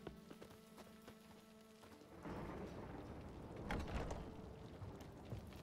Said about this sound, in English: Ooh, stormy, I like it.